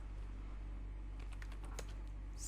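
Keys clatter in a quick, irregular run as someone types a list into Microsoft Word on a computer keyboard, close and fairly soft over a steady low hum.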